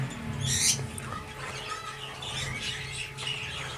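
Hogoromo canaries, a male and female, chirp inside an opened breeding box, bright scattered tweets and calls with a louder burst early on, over faint background noise.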